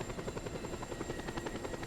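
Helicopter rotor and engine in the Just Cause 2 video game, a loud continuous pulsing thump with a steady whine, close and alone.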